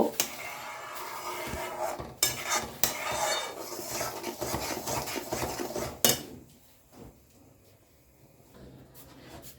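Coconut filling for pati shapta being beaten in a pan, with repeated scraping and clattering of a utensil against the metal, dense and close for several seconds before it quiets.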